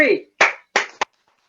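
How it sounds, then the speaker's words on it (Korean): Three distinct hand claps from an audience at a Korean art therapy event, sharp and close, spaced unevenly with the last two quick together, after a brief voice at the start. "박수를 한번 크게 쳐볼까요?"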